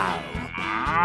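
A cartoon cow gives a loud, close moo with a low, drawn-out tone that swells and then repeats, heard alone with no talking.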